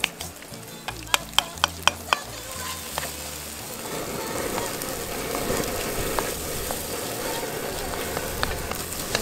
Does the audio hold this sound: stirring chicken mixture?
yes